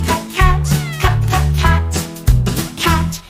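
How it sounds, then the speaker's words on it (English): A cat in a children's alphabet song meows over and over, loud and close, in long drawn-out calls that repeat steadily with a tune playing underneath. "C is for cat, cat."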